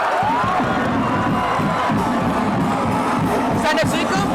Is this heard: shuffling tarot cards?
no